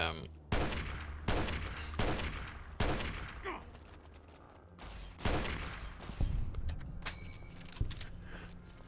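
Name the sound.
gunfire from Rex in video game Fallout New Vegas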